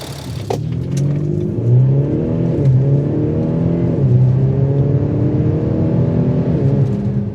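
An Audi SQ5 TDI's 230 kW diesel engine pulls steadily under acceleration, its tone climbing through a gear change, with a faint rattle and no talk.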